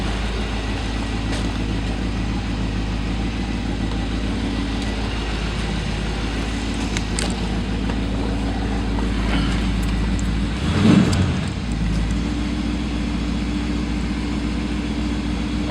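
A 1970 Ford Thunderbird with a 429 engine running steadily, a deep continuous low rumble held at an even level throughout, with a brief louder swell near the end.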